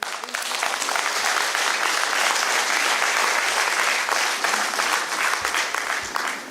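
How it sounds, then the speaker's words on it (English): Conference audience breaking into sustained applause, a loud, dense wash of many hands clapping close by that holds steady throughout with no pause. "You all deserve a big clap for that."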